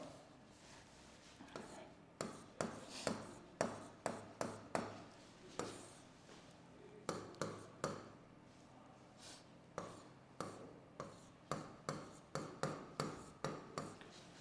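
Writing strokes on a board during a Hindi-medium English grammar class, heard as a steady series of short, fairly loud taps and scrapes in quick rhythm, with faint background murmur.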